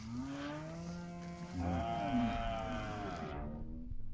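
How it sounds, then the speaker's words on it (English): A bull calf just after weaning moos loudly and up close, a long drawn-out call with a rising, wavering pitch that ends abruptly. "One last little look at my favorite bull calf of the season."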